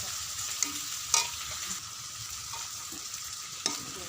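Katla fish curry with salt, turmeric and chilli powder is stirred in a pan on a gas stove, a soft steady sizzle punctuated by a few crisp spatula scrapes and clinks.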